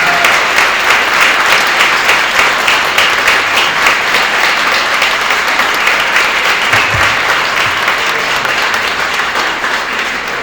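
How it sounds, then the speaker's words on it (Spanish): Gallery audience giving a loud, sustained round of applause for maestro Santillán, a writer, with dense clapping holding steady for several seconds. "yo quiero otro aplauso fuerte para el maestro Santillán"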